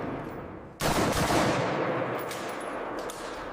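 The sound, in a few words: M240 machine gun test firing 7.62 mm NATO rounds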